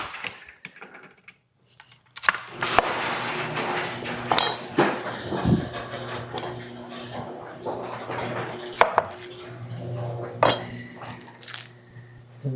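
Onions being chopped with a knife in a home kitchen while stuffed peppers are prepared: irregular close taps and clacks against a board, mixed with dish clatter and a low background hum.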